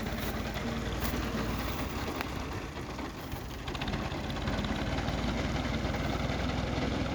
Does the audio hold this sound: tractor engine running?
yes